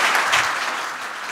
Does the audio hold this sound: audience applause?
yes